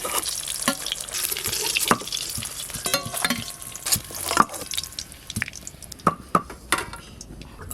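Eggs frying in a pan as part of cooking egg curry, with soft sizzling under frequent scraping and stirring clinks of a utensil against the pan, fairly quiet and intermittent.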